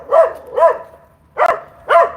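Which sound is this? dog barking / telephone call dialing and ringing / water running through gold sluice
dog barking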